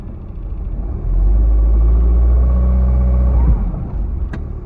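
A tempo van's engine, unused for two months, catches and settles into a deep, loud idling rumble close by, swelling a little after the first second and holding steady before easing off.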